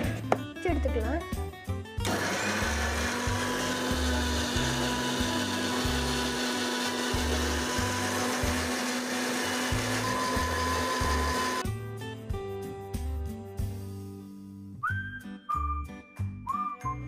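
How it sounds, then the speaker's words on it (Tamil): An electric blender whirs loudly for about ten seconds while blending strawberries with sugar, then stops. Quieter clatter and a voice come before and after the motor run. "ஸ்ட்ராபெரியும் சுகரும் இருக்குல்ல, நம்ம இது பிளெண்ட் பண்ணி எடுத்துகிட்டு வந்துட்டு"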